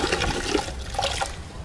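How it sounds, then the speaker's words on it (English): Car wash sponge swished and rinsed in a bucket of dirty water, a brief close sloshing and splashing with no talk. "Rinse it off quickly in the dirty water bucket"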